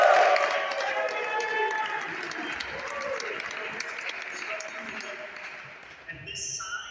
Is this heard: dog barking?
no